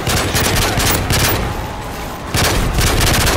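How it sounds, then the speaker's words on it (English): Rapid gunfire and explosive bursts in the video game Modern Warfare 3 Spec Ops, with grenades being thrown; loud dense volleys come in two waves separated by a brief lull. "Let's just start lobbing grenades down there."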